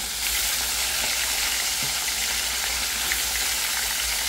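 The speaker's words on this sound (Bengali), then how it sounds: "মাছগুলো ভাজা নিয়ে" Fish fries in a pan with a constant, even sizzle and faint crackling. It holds steady throughout with no voices.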